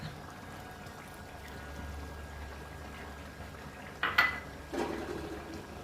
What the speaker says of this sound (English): Then add the rice.